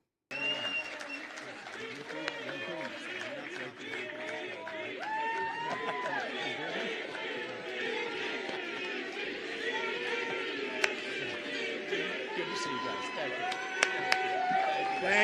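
Crowd at a Trump rally in New Hampshire applauding Vivek: steady, dense applause and crowd noise for about fifteen seconds, with chatter and voices running through it.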